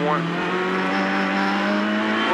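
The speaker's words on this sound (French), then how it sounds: "ça c'est l'arrière qui glisse avec les pneus à clous, c'est normal" A Citroën C4 WRC rally car on studded tyres slides its rear on the Col de Turini stage, its engine droning at high revs with a steady whining tone, loud and close throughout.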